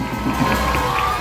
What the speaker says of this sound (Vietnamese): Cùng dành một tràng pháo tay thật nồng nhiệt cho bài đồng diễn của tất cả các bạn thiếu nhi và đội viên